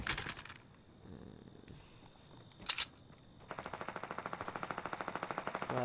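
Rapid bursts of automatic gunfire in the video game Fortnite rattle in a fast, even rhythm toward the end, after a couple of sharper isolated bangs earlier; moderately loud, no talking.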